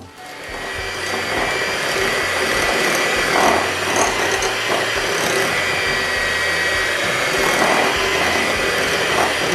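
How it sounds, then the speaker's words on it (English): An electric mixer beats pound cake batter in a bowl with a continuous, fairly loud mechanical whir and grinding hum that holds steady from start to end. "start stirring it rather, with my spoon, and then move to my mixer"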